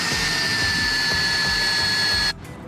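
Power drill boring a hole for a bolt in a solar oven boating rail mount, a steady high whine running for over two seconds, close and loud, then cutting off abruptly.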